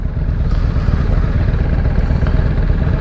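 A motorcycle engine rumbles steadily and close by, a constant low mechanical drone with faint clatter, no voices.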